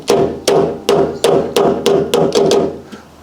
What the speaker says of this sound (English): I've also been using the hammer.